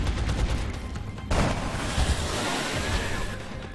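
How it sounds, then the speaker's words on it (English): A single loud heavy-rifle burst in the video game XCOM: Long War, a sharp crack with a booming tail against constant game ambience, with no speech. "Let's see how the heavy rifle turns out against him."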